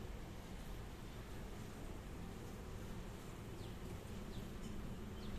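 Honey bees buzz in a steady, dense drone while a beehive box is opened and cleaned, the swarm agitated and aggressive; a continuous near hum with no speech.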